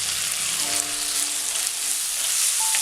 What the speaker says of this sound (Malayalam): ഇനി ഇതിലേക്ക് തക്കാളി ചേർക്കാം.